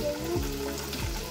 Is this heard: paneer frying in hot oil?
yes